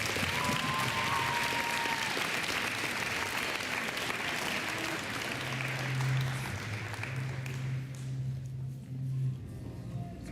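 An audience at a school fall sports ceremony claps for middle school cross country athletes, thick steady applause fading after about seven seconds while a low hum and scattered murmurs remain.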